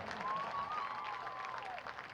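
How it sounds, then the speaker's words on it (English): Stadium crowd applauding cheerleaders at a high school football game, steady broadband clapping heard from a distance, with a faint whistle-like tone rising and falling through the middle. "a round of applause for our Bobcat cheerleaders"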